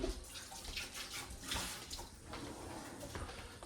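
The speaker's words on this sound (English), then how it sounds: "Just rinse my hands off." Water running from a kitchen tap while hands are rinsed before making grilled flatbreads with prosciutto, a steady close splashing stream with no talk.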